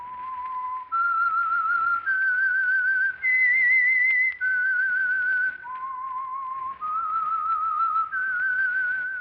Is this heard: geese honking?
no